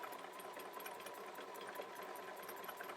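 A sewing machine stitches slowly and steadily along the seam line of a foundation paper pieced quilt block, giving a continuous quiet mechanical hum with fine rapid needle ticking.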